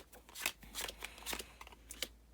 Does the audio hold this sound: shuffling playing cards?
yes